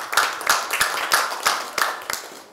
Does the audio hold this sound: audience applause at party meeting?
yes